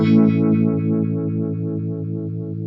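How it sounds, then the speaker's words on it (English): Telecaster chord through an MXR Univibe pedal set at 12 o'clock, a single strum sustaining and slowly decaying with a rapid, pulsing throb, loud and with no voices. "And then the Univibe sounds like this."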